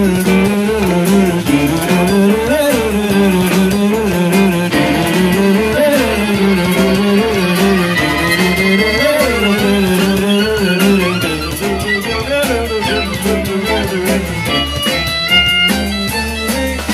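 Fast, busy fiddle lines play over a full country band in a recorded song, the bowed strings weaving up and down continuously and loud throughout.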